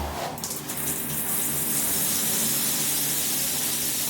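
A wall-mounted black square rainfall shower head pours water in a steady, loud hiss that runs unbroken and close by, with no talking.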